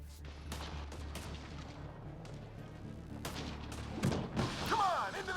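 Enemy gunfire in Mass Effect: Andromeda: rapid, sharp shots crack over a steady low rumble, loud and constant, and a voice speaks briefly near the end.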